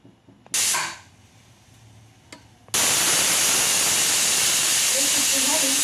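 A pressure cooker of saffron rice releases steam: a short sharp burst is followed by a brief quieter pause, then a loud, sustained, close hiss that carries on to the end.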